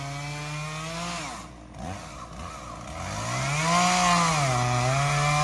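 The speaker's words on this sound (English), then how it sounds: "Without the chainsaw." Chainsaw cutting through a tree trunk outdoors, its engine droning loud and close and rising and falling in pitch as the chain bites into the wood, steady for several seconds with no talking.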